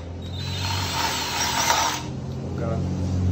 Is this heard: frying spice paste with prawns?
no